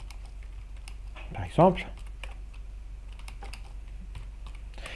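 Typing C code on a computer keyboard, with a steady run of soft, close key clicks continuing under a man's brief French speech.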